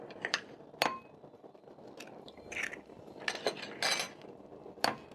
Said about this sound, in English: I'm going to crack in 3 more eggs into my bowl.